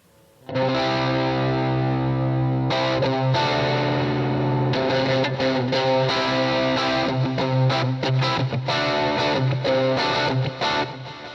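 A heavily distorted electric guitar plays a solo, with sustained notes and rapid bursts of picking, loud and continuous throughout.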